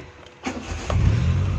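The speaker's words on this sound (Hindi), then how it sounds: "ये गाड़ी हमारी स्टार्ट हो गई" A car engine fitted with a CNG switch cranks briefly with a couple of clicks, then catches and settles into a steady, close, low idle.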